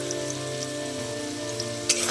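Potatoes seasoned with salt and turmeric fry in hot oil, giving a soft, steady crackling sizzle up close, with a brief louder clink near the end and no voices.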